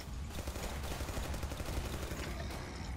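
Sustained automatic gunfire from a Tommy gun in the video game Killing Floor, a dense, continuous rattle of rapid shots holding steady and loud for the whole stretch.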